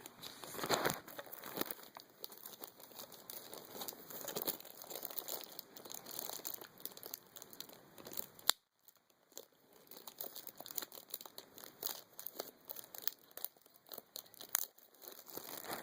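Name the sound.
ripping open speaker packaging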